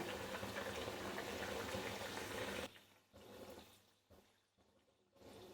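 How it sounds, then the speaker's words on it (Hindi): Homemade sweets frying in oil on a very low flame. A steady, dense bubbling sizzle fills the first half, then thins into quieter, intermittent crackling and bubbling. "इनको फ्राई कर लेंगे एकदम स्लो आंच पर, जिससे हमारी ये अंदर तक पक जाए।"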